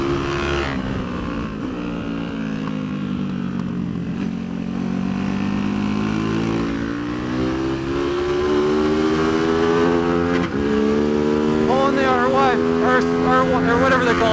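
Tianda TDR300 motorcycle ridden on track at Mission Raceway, heard from the rider's helmet: a loud steady engine drone with pitch rising and falling through gear changes and revving, plus wind rush throughout, with a voice talking over it.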